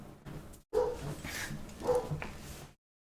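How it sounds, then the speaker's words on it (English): A dog barks at workers outside the house, a run of close, agitated barks and yips with a whimpering edge that stops abruptly. "Dog's gonna be going crazy for a sec because there's people here"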